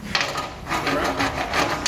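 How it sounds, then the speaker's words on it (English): Wood is rubbed by hand with 80 grit sandpaper in short, rhythmic strokes. The scratchy rasping comes close and fairly loud, with one pass following another over a couple of seconds. "You're messing around with 80 grit sandpaper."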